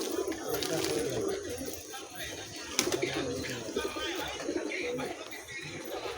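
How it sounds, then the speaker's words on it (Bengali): Dozens of pigeons being scattered wheat keep up a continuous low cooing amid flapping and shuffling, with a person talking intermittently close by. "পায়রাকে গম দিচ্ছি।"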